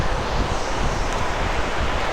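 Cold wind gusting steadily on a mountain trekking trail toward Kedarnath, a dense, roaring broadband rush buffeting the microphone throughout with no pauses.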